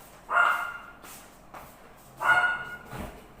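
A pet dog named Buda barks indoors while a salad is being prepared, giving two short, moderately close bursts about two seconds apart against a quiet background, with no talking.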